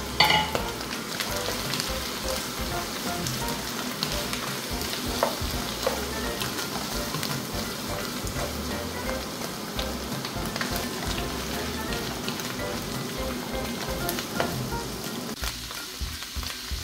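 Shrimp sautéing in a pan with broccoli, mushrooms and young corn, giving a steady, close sizzle and crackle of frying throughout, with occasional stirring scrapes and no talking.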